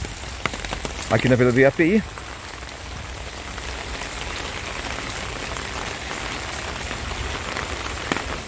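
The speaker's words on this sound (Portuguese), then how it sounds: "Aumentou de novo a intensidade da chuva. Chove muito aqui, essa água caindo das casas, ó, dos telhados." Steady heavy rain pours and splashes from house rooftops in Porto Alegre, a dense continuous hiss, with someone speaking briefly over it early on.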